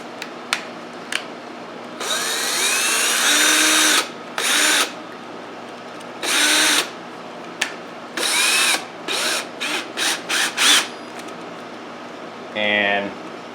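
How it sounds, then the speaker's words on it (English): A power drill on low whirs in repeated short bursts of varying length, close by, with small clicks and rattles between runs, during valve work on a 1971 Honda CB175. "And then we'll put the drill on low."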